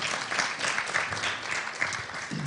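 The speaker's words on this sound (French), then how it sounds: "Oui, on peut applaudir." Audience applause at a faith talk, a dense steady wash of many hands clapping, moderately loud and continuous.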